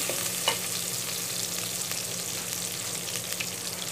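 Garlic and ginger sizzle and crackle steadily in oil close by, with small pops now and then and a faint stir.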